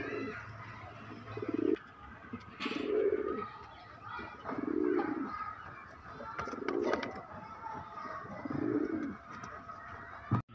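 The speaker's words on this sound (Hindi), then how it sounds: "ये जोड़ा भी देख लो भाई" Madrasi pigeons coo in repeated low, soft bursts about every second or two, close by, with faint chirps and rustling in the background.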